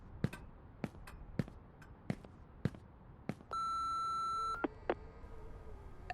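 Several hard thuds in a row give way to a steady electronic voicemail beep held for about a second, followed by short clicks, in the horror video game Remothered: Broken Porcelain.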